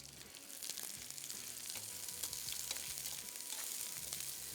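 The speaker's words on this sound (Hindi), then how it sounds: "इसको हल्का सा मैं फ्राई कर रहा हूँ ड्यू ड्रॉप के ऑलिव पॉमेस ऑयल में" Food frying over high heat in Dew Drop olive pomace oil gives a soft, continuous crackling sizzle, fairly faint and steady, with no voices.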